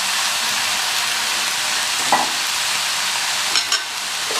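Drumstick leaves fry and get stirred in oil in a pan, a loud continuous sizzle broken by a couple of spatula scrapes and knocks, with no speech.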